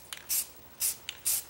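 Rust-Oleum Ultra Cover semi-gloss black paint plus primer sprays from an aerosol can onto a 1991 Club Car DS golf cart part. Three short hissing bursts are heard close up, each followed by a faint click of the nozzle.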